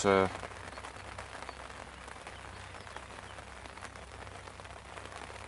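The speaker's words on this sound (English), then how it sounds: "I think we've got this rain for the majority of the day" Steady rain patters down at a fishing lake, a constant soft hiss of drops on the surface that carries on evenly throughout after a brief sound at the very start.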